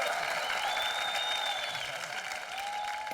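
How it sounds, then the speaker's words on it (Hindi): A studio audience claps loudly for Shah Rukh Khan's arrival on a comedy talk show, a dense continuous roar of applause with a few high whistles cutting through. "जोरदार तालियां।"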